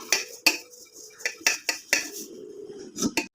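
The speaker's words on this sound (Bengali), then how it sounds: "এবার হাঁড়িতে আমি ঘিটা মাখিয়ে নেবো।" A metal cooking pot is greased with ghee for mutton biryani, giving a series of sharp, close clinks and scrapes at an irregular pace, with quiet gaps between them.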